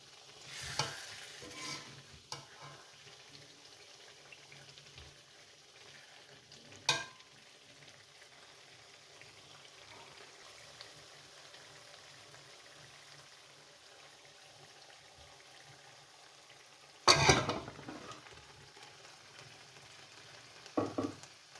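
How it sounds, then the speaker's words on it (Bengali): Fish pieces frying in hot oil, a faint continuous sizzle running throughout with a few sharper bursts and clatters scattered across, no talking. "এখন আমি মাছগুলো দিয়ে দেব।"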